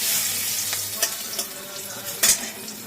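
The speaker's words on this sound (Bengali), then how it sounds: "এবার দেখো তেলের মধ্যে এই যে তেজপাতা ফোড়ন দিয়ে দিল" Bay leaves tempered in hot oil in a home kitchen, a soft steady sizzle with a few sharp crackles and pops scattered through, close and fairly quiet.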